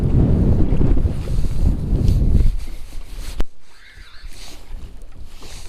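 Strong wind gusts roar against the microphone while fishing on Lake Sakakawea, then suddenly drop away, leaving a quieter breezy backdrop near water.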